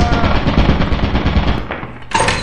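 Video game gun turret firing a loud, rapid automatic burst close by, the stream of shots continuing for about two seconds before a brief break and a final sharp blast.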